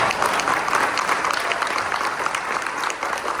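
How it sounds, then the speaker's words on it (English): Steady, dense applause from a luncheon audience at a Rotary Club annual awards event, clapping continuously at close range for the whole stretch after a prayer. "let's give him a round of applause."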